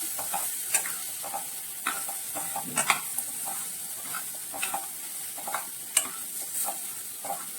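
A spoon stirs garam masala and turmeric through vegetables cooking in a pan, giving a soft steady sizzle punctuated by regular scraping strokes and light clinks, close up and without speech.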